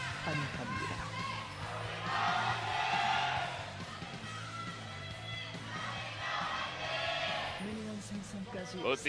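A packed arena crowd at an LCK esports match between Afreeca Freecs and Hanwha Life Esports at Nexon Arena, roaring and cheering in rising swells under steady commentator talk.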